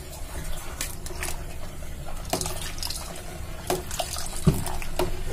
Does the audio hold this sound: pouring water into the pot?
yes